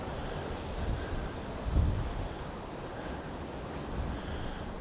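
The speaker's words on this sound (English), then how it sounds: "These are really quite big waves." Large ocean waves break on the shore at Costa de la Calma, Mallorca, a constant roaring surf wash with a heavier crash midway, mixed with wind buffeting the microphone.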